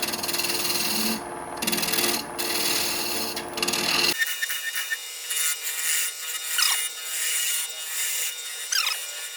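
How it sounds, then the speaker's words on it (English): A tall wooden kitchen container turns on a lathe under a skew chisel, a steady close rasping, rubbing cut for about four seconds, then lighter, thinner scraping. "as I'm turning with a skew chisel, I'm always on the bottom half of the blade"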